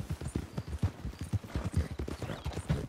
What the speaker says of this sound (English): I'd borrowed a friend's horse for the trip.